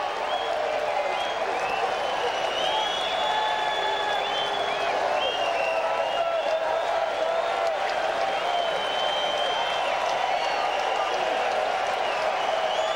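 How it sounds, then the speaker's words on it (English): A large crowd of Yankee fans claps and cheers steadily through a 1998 baseball game against Atlanta, a dense, continuous roar of applause in a stadium, with announcer commentary over it. "The Yankee fans here clapping, and there are a lot of them."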